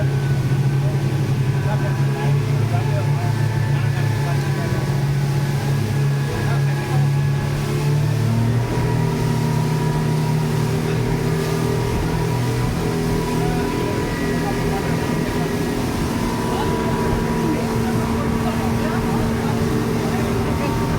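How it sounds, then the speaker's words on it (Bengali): A speedboat engine drones steadily and loudly throughout while heading out from Coral Island toward Pattaya in Thailand, with a constant low hum and wind noise, and people talk faintly over it. "এই স্পিড বোটে আবার সেই ভয়ঙ্কর জার্নিটা মিনিমাম 8 ঘন্টা তো হবে।"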